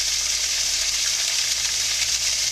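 Tofu frying in olive oil in a pan, a loud close steady sizzle with constant hissing crackle throughout and no talking.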